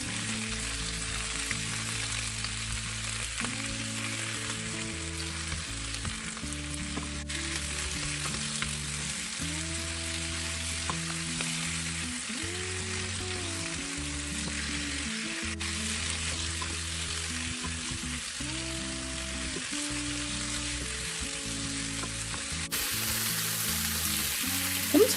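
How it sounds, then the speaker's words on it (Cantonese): Pork ribs stir-frying in a pan with ginger and fresh tomatoes for a pork rib and tomato soup, a constant bright sizzle that runs the whole time beneath soft melodic background music. "加埋啲番茄落去炒一炒"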